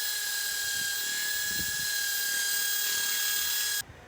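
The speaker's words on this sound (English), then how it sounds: "in the crevices, like here in the gutter, in the gully, I'm going to use the wire wheel to clean that out." Wire wheel on a power tool scrubbing paint out of the gutter of a GMC motorhome, a steady high-pitched whine with scratchy grinding that cuts off abruptly near the end, loud and close.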